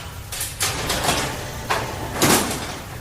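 A door opening as an audiobook sound effect, heard as a few soft sliding, scraping swishes spread across the clip with a louder burst near the end, with no voices.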